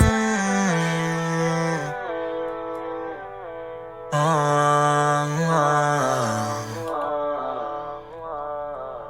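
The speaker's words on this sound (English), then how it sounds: "I added a chorus and a flanger to it to give it a little weird feel." A sung R&B vocal line carries a wavering, swirling chorus and flanger sheen over a steady musical backing, breaking into short phrases with brief pauses.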